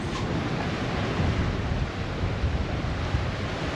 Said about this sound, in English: I'll give you guys a look at the seas